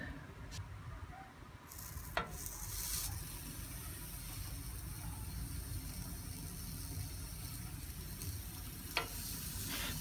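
Sliced onion sizzling on a preheated grill plate over a portable gas stove, a soft steady frying hiss under a low burner rumble, with a couple of brief sharp clicks of a utensil.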